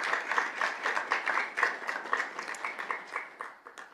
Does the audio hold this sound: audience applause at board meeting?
yes